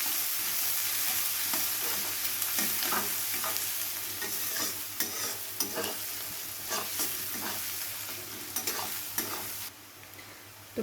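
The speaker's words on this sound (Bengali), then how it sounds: "পেঁয়াজটাকে এবারে ভালো করে গোল্ডেন করে ভেজে নিতে হবে।" Chopped onions frying toward golden in a pan, a continuous loud sizzle with a rapid series of spatula scrapes and taps through most of the stretch, heard close with no talking.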